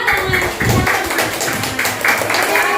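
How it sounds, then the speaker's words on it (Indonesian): Classroom applause for a student group during a school lesson, a dense steady patter of many hands clapping close by for a few seconds with some voices mixed in. "beri tepuk tangan yang meriah dong ya"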